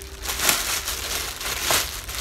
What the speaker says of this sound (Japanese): 中から、あ、またさらにビニール袋で入ってますね。